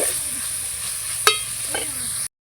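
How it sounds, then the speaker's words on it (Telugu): Tomato pieces frying in a pan on a stove for a goat meat curry, a steady soft sizzle with a couple of brief stirring scrapes, close, ending in a short silent gap. "టమాటా కూడా కొంచెం వేగింది"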